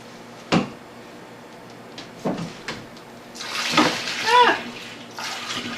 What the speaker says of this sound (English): Now, I'm going to add the wort.